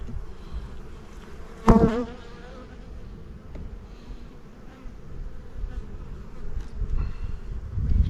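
Honeybees buzzing around an open hive in early spring after winter, a dense continuous drone close by with one sharper bee passing very near at the start, no voices.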